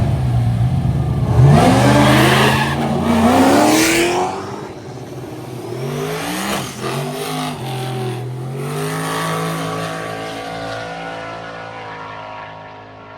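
An old Ford with a 5.3 liter turbo engine launches hard in a drag race at a drag cruise event. The loud engine climbs in pitch through several rising gear sweeps, then fades as the car pulls away.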